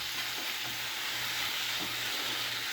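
Tomato paste stirred into a jambalaya of chicken and andouille sausage in a pan, a faint, even hiss of frying with soft stirring underneath, continuous and unbroken by speech.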